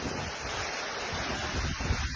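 Strong wind with heavy rain at night near a petrol pump at Nilakkal, heard as a steady, loud roar of gusts and downpour buffeting the microphone, with no talking.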